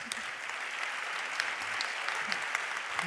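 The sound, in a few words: audience applause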